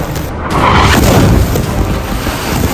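A loud, deep boom of an Israeli missile strike in Nuseirat, Gaza, with a rumbling, wind-buffeted roar that sustains for a couple of seconds, like a distant heavy explosion.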